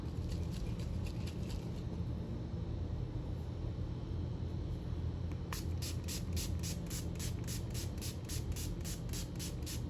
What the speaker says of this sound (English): let's mist the face and put everything in place. What am I using? Let's use this Infinite spray from Revolution.